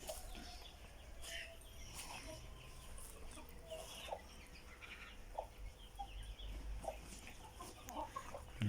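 Chickens and young roosters cluck and call in a coop, scattered short clucks near and far over a steady farmyard background, quiet and continuous with no clear talking.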